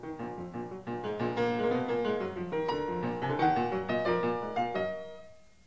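Solo piano plays the last movement of Alkan's piano symphony, a dense, loud passage of rapid chords over a sustained bass line, ringing out and fading at the end.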